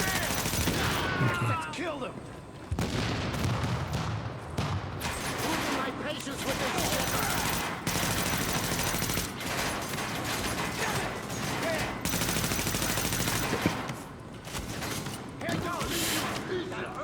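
Rapid video game gunfire crackles in repeated bursts with short gaps, mixed with mechanical clicks and game effects, at moderate level throughout.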